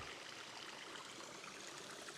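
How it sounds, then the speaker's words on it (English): Mountain stream water tumbling down a leafy mountainside in Portugal, a faint, steady, even rush of flowing water heard alone. "with the water falling down the mountainside"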